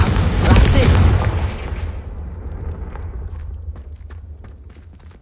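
A Confringo blasting spell in the Hogwarts Legacy video game erupts as a loud, close boom that rumbles and decays over a few seconds, followed by scattered crackling debris, with voices in the background.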